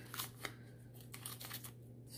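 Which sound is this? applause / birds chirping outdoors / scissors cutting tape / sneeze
scissors cutting tape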